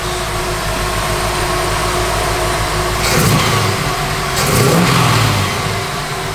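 A 1963 Chevrolet Impala V8 with ceramic-coated headers idles with a low rumble, then revs hard twice in quick bursts before settling back to idle.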